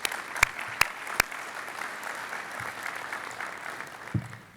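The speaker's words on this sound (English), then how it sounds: "a round of applause for our sponsors again" A conference crowd at a space industry event applauds its sponsors, sustained clapping with a few sharp, louder claps standing out near the beginning and a thump near the end.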